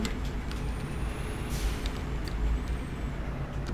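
A big truck's air brakes hiss and release inside the Car Crushers 2 video game, over a steady low engine rumble with a bright whistling tone and short sharp bursts standing out.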